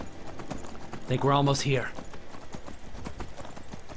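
Horse hooves clip-clop in a steady rhythm in the video game Skyrim, running throughout at moderate volume while someone talks over them.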